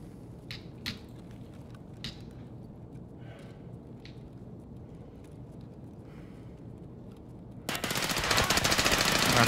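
Rapid automatic gunfire from an RFB rifle in a first-person shooter game, a few scattered single shots early on, then a loud, sustained burst near the end.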